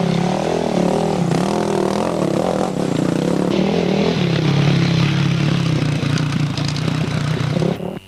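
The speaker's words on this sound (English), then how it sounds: "riding a Yamaha YFZ 450" A Yamaha YFZ 450 quad bike races at a 2005 quad event at Long Compton and Selattyn, its engine revving loudly and continuously up close with shifting pitch, and other engines rumbling underneath.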